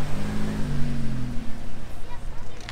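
A Ferrari SF90 Stradale rolls in on a Monaco street, its engine note sliding lower as it approaches, loud and near, with voices talking over it.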